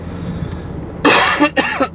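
A person coughs in a short cluster of three harsh bursts, a heavy first one followed by two quicker ones, close by over a quiet, low background hum, with no talking.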